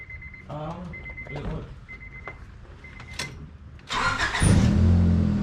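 A beater car's engine is started after catching fire: repeated warning chimes and starter cranking lead to the engine catching and settling into a loud, rough idle nearby.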